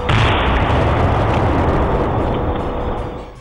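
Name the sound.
PETN explosive blast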